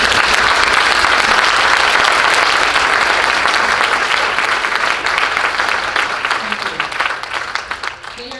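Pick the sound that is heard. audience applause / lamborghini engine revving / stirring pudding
audience applause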